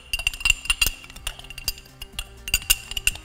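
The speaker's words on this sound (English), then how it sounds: "I'm just gonna give that a little bit of a stir" A spoon stirs a ground spice mix of nutmeg, ginger, salt and thyme, giving a run of quick bright clinks and taps against the bowl in uneven bursts, close and distinct.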